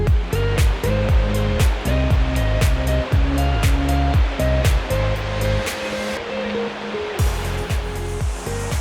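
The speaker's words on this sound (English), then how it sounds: "Down there, that's the Zhiben River." The Zhiben River flows below a bridge near the Zhiben National Forest Recreation Area in Taitung, a loud, continuous rushing of water with a steady droning hum layered over it and no voices.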